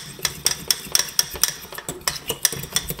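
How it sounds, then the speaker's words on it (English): A utensil stirs yeast into milk or cream in a bowl for ginger snap dough. Quick, rhythmic clinks and scrapes ring close against the dish, steady throughout with no talking. "just dissolve the yeast in the milk or the cream"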